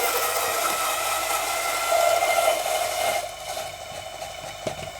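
An espresso coffee grinder grinds beans at a finer setting for a mystery roast, a steady loud whirring drone that holds for about three seconds before winding down into quieter rattles.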